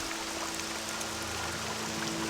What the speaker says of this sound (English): you can actually hear the sound of the rain underwater.